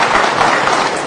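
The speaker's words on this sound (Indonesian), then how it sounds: "Tepuk tangan sekali lagi dulu buat Ripan ya" Audience applause at a talk, a dense steady wash of clapping from a crowd filling the whole short moment with no voices over it.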